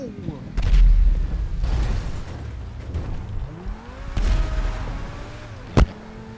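Tank cannon fire in Grand Theft Auto 5, with heavy low booms and rumbling blasts spread across the clip and a sharp crack near the end, set against vehicle and game noise.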